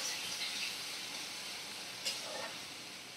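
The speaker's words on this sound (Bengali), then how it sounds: "ভালো করে আমি ভাজা করে নেব পেঁয়াজগুলোকে।" Sliced onions with turmeric and split green chilies fry in a pan, giving a faint, steady sizzling hiss with a small tap partway through and no voices.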